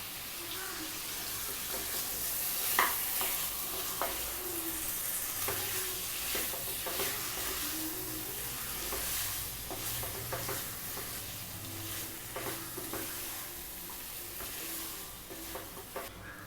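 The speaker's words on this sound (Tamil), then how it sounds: "இப்போ நம்ம சிக்கன் சேர்த்துக்கலாம்." Half a kilo of chicken drops into a pan of well-sautéed tomatoes for a chicken gravy, giving a steady close sizzle with stirring scrapes and clinks throughout, no talking.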